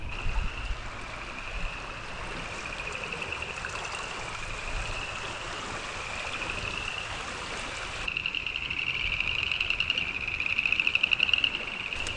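A swollen creek after heavy rain rushes in a continuous, steady wash, with a faint higher trickle toward the end and no voices.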